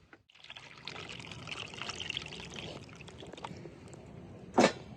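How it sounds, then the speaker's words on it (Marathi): Cold water pours steadily into a pot of boiled eggs for several seconds, a continuous splashing trickle, ending with a brief sharp clink. "आता त्याच्यात गार पाणी ओतलं"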